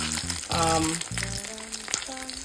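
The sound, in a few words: fried dumplings sizzling in a pan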